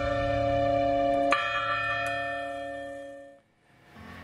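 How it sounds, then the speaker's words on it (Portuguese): A church bell rings out in long, sustained harmonic tones, with one fresh strike early on and another later, the resonance slowly decaying before fading almost to silence near the end. "No tocar dos sinos."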